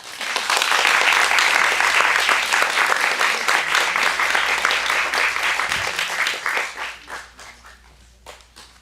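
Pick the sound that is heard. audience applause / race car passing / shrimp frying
audience applause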